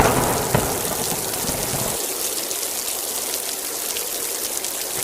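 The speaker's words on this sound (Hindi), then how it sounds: "ये तो बारिश इतनी तेज हुई" Heavy rain pours down in a dense, steady hiss, loud and continuous from start to finish.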